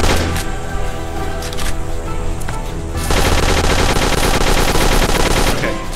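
Rapid automatic gunfire from a gun in the zombie farm-defense video game Dead Acres rattles continuously and loudly, growing denser partway through, with no speech over it.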